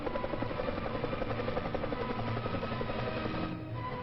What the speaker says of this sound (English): Some early four-bladed copters actually hovered, while others only bounced